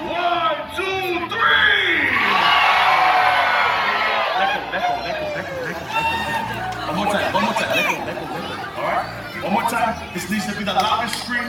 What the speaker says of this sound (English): And it's accompanied by a very loud scream.